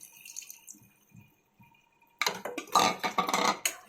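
Boiled mutton stock from a pressure cooker is poured into a pan of gongura mutton, with faint clinks first, then a loud, close splashing gush of liquid.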